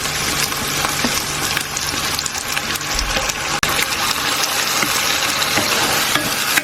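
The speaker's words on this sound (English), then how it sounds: "Once the ginger and garlic are done, I'm going to go in with some blended tomatoes." Blended tomatoes hit a hot pan of fried ginger and garlic for a beef and potato curry, giving a loud, continuous sizzle and spatter close up, with a brief clunk partway through.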